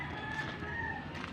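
A chicken clucks nearby outdoors in a garden among chili plants, a steady low murmur of calls over faint background noise.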